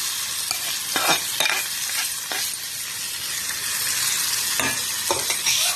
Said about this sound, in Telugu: ఇక మన తాలింపునంతా పచ్చడిలో వేసేసుకుంటున్నాం.